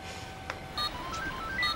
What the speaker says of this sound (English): The sound of that first text.